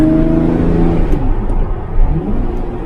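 A bright orange Lamborghini Murcielago pulls away near the Swiss border, its engine note rising in a loud, close, droning rev that then falls into a rumbling, whirring fade as the car leaves.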